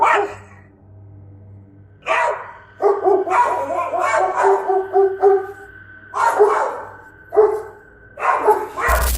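Two dogs, a husky and a German shepherd, bark repeatedly at a mountain lion in a driveway, loud, close bursts of barking in several clusters with short pauses between.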